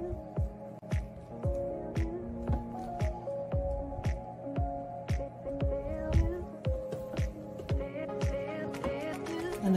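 Soft, thick hot-process soap is scooped and dumped out of a warm crock pot, giving repeated wet squishing plops and drips in an irregular rhythm, close and fairly quiet, with no talking.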